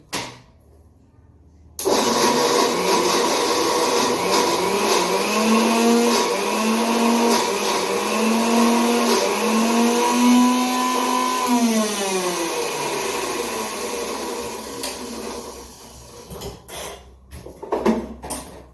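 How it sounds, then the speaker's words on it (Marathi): Mixer grinder blending peanut chutney with its tempering, starting abruptly after a quiet moment and whirring loudly in a steady run of pulsing motor drone before winding down, followed by a few clattering bumps. "पुनः एकदा गुर्र करूया म्हणजे फोडणी सगळी त्याच्यामध्ये छान मिक्स होईल"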